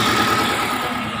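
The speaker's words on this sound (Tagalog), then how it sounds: "Palyado yung makina niya." Chery QQ 311 engine idling with a misfire, a close, loud, slightly uneven rumbling chug over a short stretch with no talk.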